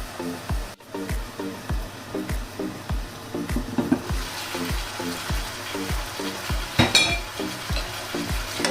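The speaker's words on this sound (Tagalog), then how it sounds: "Let's cover the chicken. Let's wait until maybe 5 minutes. Let it simmer" Chicken curry cooking in a pot in a home kitchen, with a steady sizzling bubble and a regular series of soft low knocks, close and moderately loud, with no talking.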